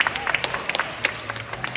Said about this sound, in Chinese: 通常在这时候需要来点掌声鼓励鼓励一下。